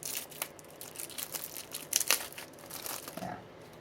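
Crinkly plastic packaging of a Yu-Gi-Oh! Marik structure deck being torn open by hand, a close run of crumpling and ripping pulls with a couple of sharper tears.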